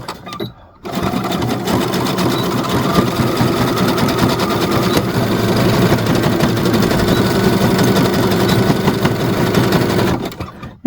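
A sewing machine runs steadily for about ten seconds as it stitches back and forth across the end of a coiled rope bowl. The close, even mechanical whir starts and stops cleanly with no talking.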